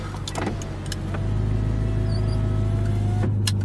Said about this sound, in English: Window up.